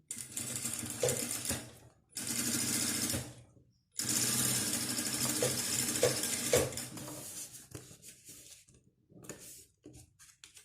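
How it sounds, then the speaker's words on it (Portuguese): A sewing machine stitches a fabric pouch for a medicine organizer in loud, steady whirring runs, stopping and restarting several times, then trailing off into short bursts of stitching. "E aí eu vou passar mais uma costurinha aqui nesse meio."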